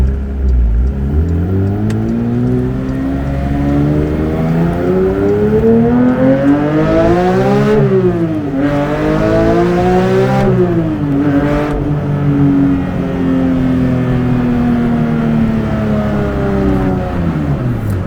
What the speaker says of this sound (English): The sound of the engine can absolutely speak for itself